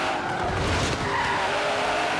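Twin-turbo car in Forza Horizon 3 skidding and fishtailing, with loud continuous tire scrub and squeal over engine roar, sustained without a break.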